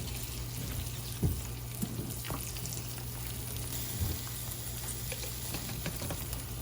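Eggs fry in butter in a pan with a soft, steady sizzle and faint crackle, broken by a few light scrapes and taps as they are flipped.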